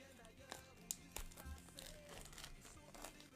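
Plastic wrapping on a Pokémon card display crinkles and tears in quick, faint bursts up close, with scattered rustling and a hint of voice in the background.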